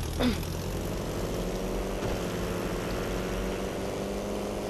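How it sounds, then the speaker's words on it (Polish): Propeller airplanes in the Airfix Dogfighter video game drone loudly and steadily, a continuous engine whine and buzz that fills the whole stretch with no speech over it. "Fajnie latają te samoloty."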